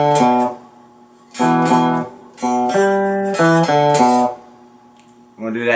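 Cigar box guitar picking a riff slowly, clear plucked twangy notes in short grouped phrases separated by pauses, close and fairly loud.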